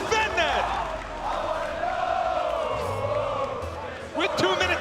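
Large esports arena crowd at a Rocket League grand final, a sustained loud roar of voices with singing and chanting, swelling into cheers near the end, under a commentator's voice.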